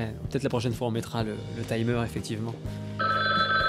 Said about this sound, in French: Ça sonne. C'est qui nous appelle ?